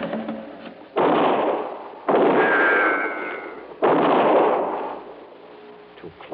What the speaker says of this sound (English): your last shot, wasn't it, Frankie?